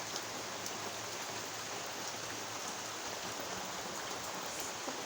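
Steady rain from Typhoon Carina hisses continuously during flooding in the Philippines, a dense, even wash of falling water heard at moderate distance without any voices.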